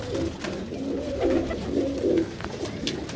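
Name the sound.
pigeons cooing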